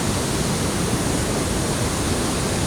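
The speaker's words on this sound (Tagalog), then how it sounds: "Yan po ang spillway dito sa Rizal, sa Montalban." Heavy rainwater rushes down a dam spillway in Montalban, Rizal, a loud, steady broadband roar with no break, close by and alone.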